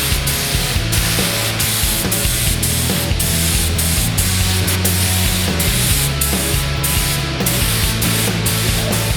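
A steady, close hiss of a 1.8mm spray gun spraying primer over a bumper repair runs continuously, with faint mechanical hum and brief pauses in the flow.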